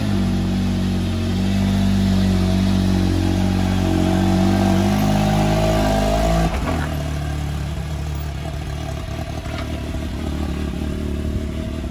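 Off-road vehicle engine running at a steady idle with a rough mid-pitched drone, then a sudden clunk as it shifts, after which a lower, quieter engine hum continues with faint rattles.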